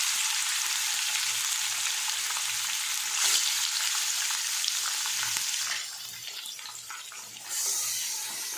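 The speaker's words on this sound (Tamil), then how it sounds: "எண்ணெய் ஹீட் ஆனோடனே சிக்கன் வந்து போட்டுருங்க." Chicken pieces frying in hot oil for biryani, a steady loud sizzle with bubbling crackle throughout, easing briefly near the end before flaring up again; no voices.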